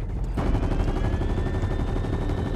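Rapid gunfire aimed at a rocket in the Fortnite video game, a dense, loud stream of shots rattling continuously after a brief lead-in, with a faint rising whine running under the fire.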